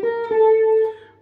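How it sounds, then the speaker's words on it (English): Diminished chord sounded once as a sustained tonal chord, clear and close, ringing for about a second with a slight re-attack partway through, no talking. "Oh, that's a diminished sound."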